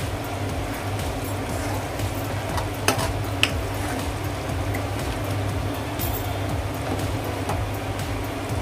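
Kadhi pakoda simmering in a pot while a spoon stirs it, giving a continuous dense bubbling rumble with soft scraping throughout and two brief metallic taps partway through.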